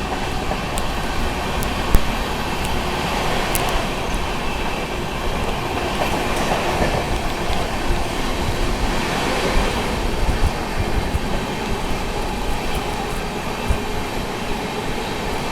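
The Sampoorna Kranti Express rumbles steadily past the Jaynagar Garib Rath Express, heard from on board as continuous loud wheel and track noise with faint clicks, constant throughout with no talk.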